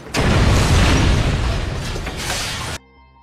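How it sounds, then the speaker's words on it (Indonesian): A house used as a drug lab blows up in a film scene, a loud, sustained roaring blast with rumbling debris that runs for nearly three seconds before cutting off abruptly to quiet background music. "Clay meledakkan rumahnya yang digunakan untuk meracik narkoboy"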